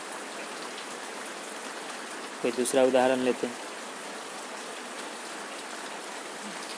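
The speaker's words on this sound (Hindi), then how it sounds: "अभी बारिश हो रहा है बहुत तेज़" Heavy rain pours steadily throughout, a dense and constant hiss of drops on surfaces, while someone speaks briefly midway over it.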